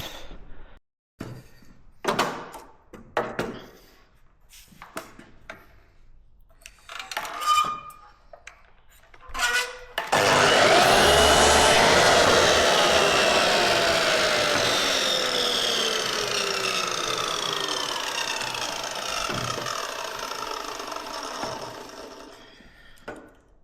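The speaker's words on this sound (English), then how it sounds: "So I get all this wood chopped up" A power tool cuts through wood in a campervan build, starting after scattered knocks and handling noises, then running loud and continuous for about thirteen seconds with the pitch slowly dropping.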